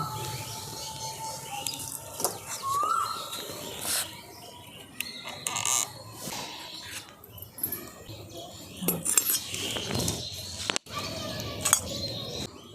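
Bowls of steamed sago idli are lifted down with scattered light clinks and taps of metal and dishware, under a voice speaking intermittently.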